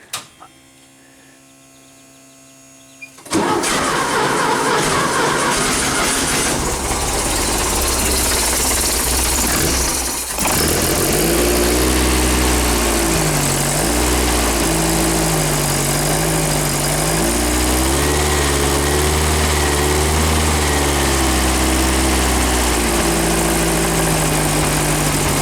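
A small engine on a cold garage floor, about 50 degrees out, is quiet at first, then catches at once and settles into a loud, steady idle with a brief dip partway through, running alone.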